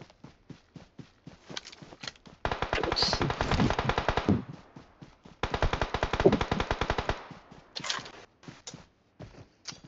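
Vector submachine gun from a video game firing two long, loud rapid bursts, each lasting about two seconds, with scattered single shots before, between and after them.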